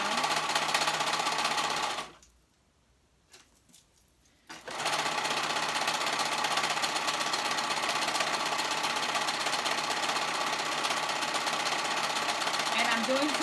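A sewing machine stitches the inside of boys' fly pants, its loud rapid motor whirring close up and running continuously apart from a brief pause near the start.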